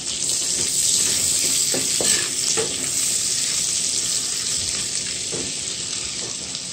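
Butter sizzles and fries steadily in a pan while shrimp scampi is being made, a continuous close hiss with a few soft stirring clicks on top and no talking.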